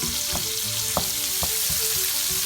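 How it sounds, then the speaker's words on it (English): Onions sizzle steadily in bacon grease and olive oil over medium heat for an Amatriciana sauce, a constant close crackle broken by a few sharp pops and light stirring scrapes. "you can see the onions are cooking really nice"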